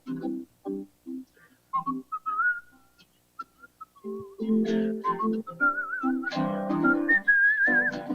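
Someone whistles a wandering melody up close, the tune weaving over short plucked-sounding accompaniment notes that grow fuller partway through.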